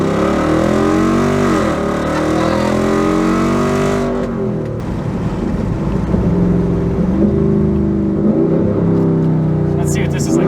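A Jeep Wrangler with no exhaust revs hard under full throttle, a loud raw engine roar climbing in pitch for about four seconds, then settling into a rough lower drone with rising and falling revs, while people talk over it.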